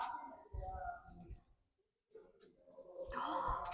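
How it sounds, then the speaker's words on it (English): A pigeon coos and chirps at the ancient Greek theatre of Siracusa in Sicily, the soft calls broken by a brief pause and mixed with outdoor noise and nearby voices. "Oh, it is a pigeon."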